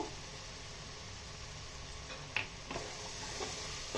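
Ginger garlic paste frying in a pan for Guntur-style chicken biryani, a soft continuous sizzle with a few faint stirring scrapes and clicks.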